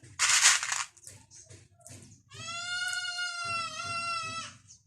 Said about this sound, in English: Please pardon me for the noise from the goats.